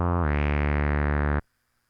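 Sustained synthesizer VCO sawtooth tone, bright and buzzy with a rich harmonic stack, holding steady for over a second before cutting off abruptly into silence.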